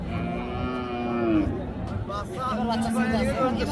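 A Friesian cow with a calf lets out a long, loud, close moo at the Raniganj cattle market in Dinajpur, followed by market voices and chatter in the background.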